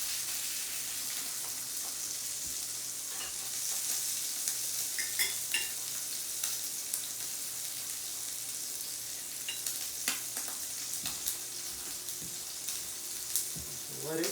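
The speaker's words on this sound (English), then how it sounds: "Then we're going to flip it over and sear the other side." Steak Diane meat, a thin piece, searing in a pan after being flipped, giving a steady broad sizzle with occasional scrapes and stirring clicks throughout, fairly close and without talk.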